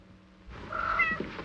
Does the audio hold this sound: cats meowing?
yes